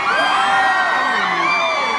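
A packed country concert crowd waiting for the headliner roars with loud, sustained cheering, whoops and shouts that fill the space without a break.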